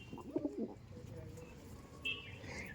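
Laldom pigeons cooing in a loft: a few soft, low coos close by in the first second, with brief chirps near the end over a steady background.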